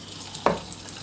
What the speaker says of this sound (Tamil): அடுத்த அப்பம் ஊற்றுறேன்